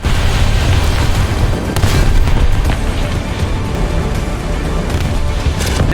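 A PE-8 bomber's 5000 kg bomb going off in War Thunder, a loud sustained rumbling blast with a heavy low roar and scattered crackling bursts that fill the whole stretch.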